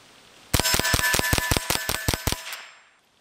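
A 10/22 semi-automatic .22lr rifle firing CCI ammunition lets off about ten quick, evenly spaced sharp cracks, loud and close, ending with a short ringing decay.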